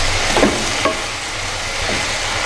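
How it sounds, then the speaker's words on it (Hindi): Dal is stirred into gravy sizzling in a pan, a steady close frying hiss with a few soft scraping strokes of a spoon. "अब हम इस दाल को मिक्स करेंगे ग्रेवी के अंदर।"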